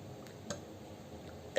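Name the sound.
storyteller imitating a lion's burp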